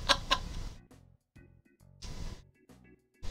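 Clucking chocobo calls from Final Fantasy VII, bird-like chicken sounds: two sharp loud calls at the start, then short quieter clucks and chirps separated by brief silences.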